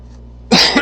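A single close, loud cough from a man during a guitar lesson, one harsh burst with a second push at the end, following a moment of near silence.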